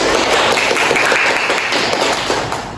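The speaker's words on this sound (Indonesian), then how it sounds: "Oke, tepuk tangan untuk temannya." Children in a classroom clap for a classmate, a dense, loud patter of small hands filling the room and fading slightly near the end, with no voices heard.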